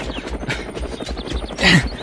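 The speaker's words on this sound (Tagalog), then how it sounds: "Bumaban ti helikopter." A helicopter comes down for a landing in an Ilocano drama, its rotor thumping in a rapid steady beat close by, with a louder burst near the end.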